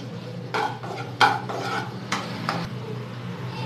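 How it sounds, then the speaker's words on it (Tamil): Cashews roasting in a pan for rava kesari, with a few close scraping stirs and clinks of a spoon against the metal over a low background hum, no one speaking. "இது சவந்து வர அளவுக்கு வறுத்துக்கலாம்."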